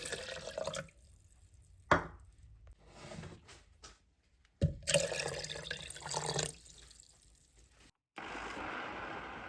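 Water pours and splashes into a blender jar holding rinsed chickpeas, coming in several uneven bursts of gushing liquid between quieter gaps, close and fairly clear with no talking.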